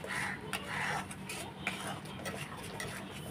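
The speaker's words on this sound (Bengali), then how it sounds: "এবার কষিয়ে নেব কিছুক্ষণ।" Spiced ash gourd cooked with cumin, turmeric and Kashmiri chilli powder is stirred in a pan, a steady clatter of spoon scraping against metal with light sizzling underneath, close and fairly loud throughout.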